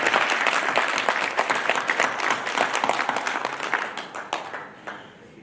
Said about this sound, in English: So please offer her another big round of applause